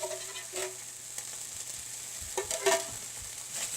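Tomato puree cooking with spices and onion in a hot pan, giving a steady close sizzle with a few soft stirring scrapes, no voices.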